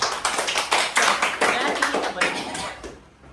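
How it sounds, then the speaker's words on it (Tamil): A group of people at a family birthday celebration clap their hands in a lively, steady rhythm, the applause loud and close, with voices mixed in before it tapers off at the end. "கை தட்டுங்க."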